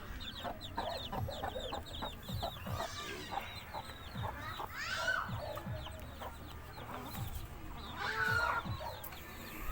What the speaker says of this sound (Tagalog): Siyempre, yung may mga sisiw na inahin.